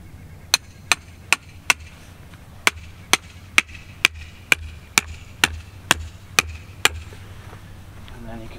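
Stakes are hammered into the ground to anchor a CLAM X-500 ice fishing shelter during winter camping, a steady run of about fourteen sharp, evenly spaced knocks, close and crisp, over a quiet background.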